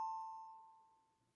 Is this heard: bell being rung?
yes